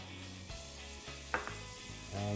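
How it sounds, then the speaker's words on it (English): Fresh butter sizzles in a hot pan, ready for sauteing shallots, a soft steady frying hiss with a few faint clinks of utensils, no talk. "And you can hear by the sizzle that that pan's got some heat."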